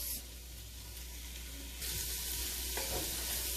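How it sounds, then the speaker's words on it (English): Vegetables softening in a pan give a soft, steady sizzle that grows slightly louder partway through, faint and close with no voices. "let's cook them until they're a little tender and smelling up the house"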